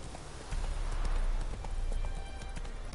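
Horse hooves in The Witcher 3 clatter at a steady galloping rhythm, close and continuous throughout, with no voices.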